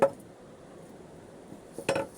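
Old antique drinking glasses clink and knock as they are handled, one sharp clink at the start and another cluster of clinks near the end over a quiet room background.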